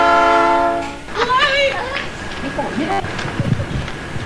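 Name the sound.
train passing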